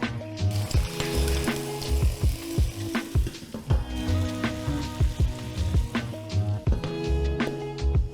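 Mussels cooking in a pan on full heat give a loud, close, crackling sizzle with repeated knocks and clatter as they are stirred and shells shift, continuing throughout without speech.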